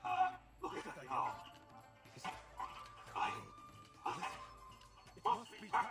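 A cartoon dog in the game Reverse 1999 gives a series of short yips, barks and whimpers spread across several seconds. The sounds are close and moderately loud over a soft background.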